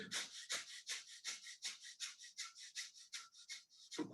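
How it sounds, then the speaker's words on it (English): A chaotic breathing exercise: rapid, forceful breaths in a fast, steady rhythm, about three per second, close and clear with no talking. "you have to do some chaotic breathing"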